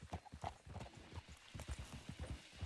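Horse hooves clip-clop in a quick, steady rhythm in the Red Dead Redemption 2 video game, a run of soft, close thuds with no talking over them.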